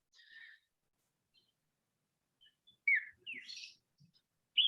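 Recorded calls of a Phainopepla, the crested desert bird, play back as sparse, clear, high chirps and short whistled notes, separated by silences and growing louder toward the end, with no voices.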